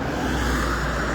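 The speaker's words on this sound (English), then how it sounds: "I hear a truck or a car coming by." A car drives past on a roadside near the Mauna Loa eruption, heard as a steady, fairly loud rush of road noise with no talking.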